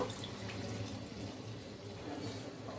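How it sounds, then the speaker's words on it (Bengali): Water poured into a simmering curry of potato, pointed gourd and egg, giving a steady close splashing rush that runs evenly throughout. "এবার একটু জল অ্যাড করব"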